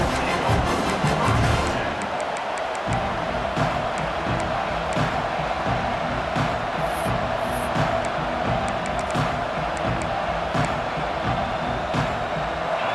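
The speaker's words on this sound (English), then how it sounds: "This crowd ready to make its presence known." Stadium crowd at a college football game between Oklahoma and Clemson, a broad steady roar of many voices filling the space throughout, with scattered shouts and a commentator speaking over it.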